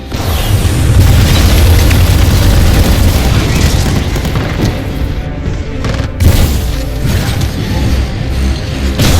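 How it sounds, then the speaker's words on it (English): A full weapon test bed explodes in Titanfall 2 with heavy, loud booming and a continuous low rumble, punctuated by crashes and mechanical bursts. "You will need to extend the bridge before the full weapon test bed explodes"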